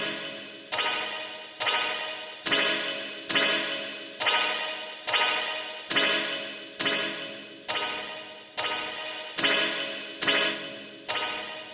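A Pulsar Primavera spring reverb plugin is heard on repeated percussive hits, about fourteen evenly spaced strikes, each followed by a bright, splashy, decaying reverb tail.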